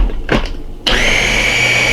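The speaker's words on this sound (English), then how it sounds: "I know sometimes my blender, my food processor, it won't act right if it ain't got enough stuff in it." After a couple of soft knocks, a blender motor roars to life, whirring loudly and steadily at high speed as it purees vegan cream cheese.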